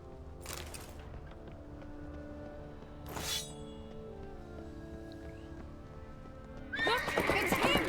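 Horses whinny several times over a low background hum in the video game The Witcher 3: Wild Hunt, then galloping hooves and jangling gear burst in loudly near the end.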